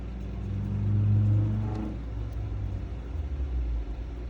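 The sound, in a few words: motorcycle passing by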